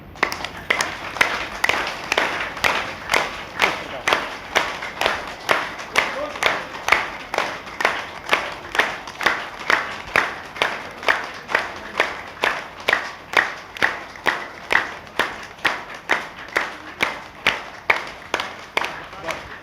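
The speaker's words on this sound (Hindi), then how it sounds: "अब थोड़ा ताली बजाएं।" A group at an exercise session of a satsang gathering in Prayagraj claps hands in unison, a steady rhythmic beat of about two claps per second kept up for the whole stretch, moderately close, with faint talk underneath.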